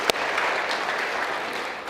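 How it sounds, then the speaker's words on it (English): Soft applause from a congregation at a service, a steady even patter of many hands that stays faint and distant throughout, with no voices over it. "pause for applause"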